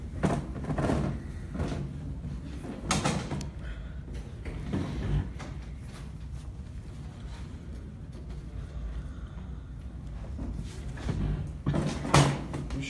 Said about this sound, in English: You shut that door.